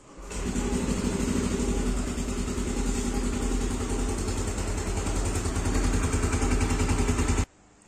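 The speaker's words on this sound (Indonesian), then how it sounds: "Nah, motornya udah nyala lagi ya guys." A motorcycle engine, just repaired after a broken camshaft bearing, starts and settles into a steady, even idle close by, running for several seconds before cutting off abruptly.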